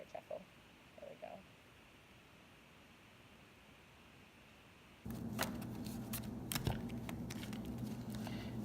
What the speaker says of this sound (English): Okay, so here's the deck. One-handed shuffle.